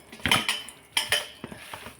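Spiced chicken pieces, coated with chili powder, salt and turmeric, being mixed by hand or spoon in a metal bowl, giving several sharp clinking scrapes in irregular bursts, close and moderately loud, with no talking.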